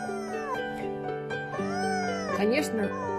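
A pet fox greets its owner after days apart with high, wavering whines and squealing calls that rise and fall in pitch, mixed with a person's voice nearby.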